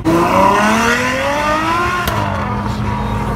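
Lamborghini Aventador SV with flamethrower exhaust revving hard, a loud close engine whine climbing steadily in pitch, then a sharp crack before the high tone settles into a sustained roar.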